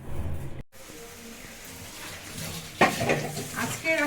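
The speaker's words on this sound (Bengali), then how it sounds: "এখানে মশলা কষাচ্ছি, ডিমটা রান্না করবো" Spices frying and stirred in a pan for egg curry, a steady sizzle with scraping spoon strokes and clinks of cookware, close up, with a louder stirring burst toward the end.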